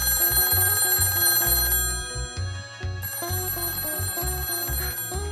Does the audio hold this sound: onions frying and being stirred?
no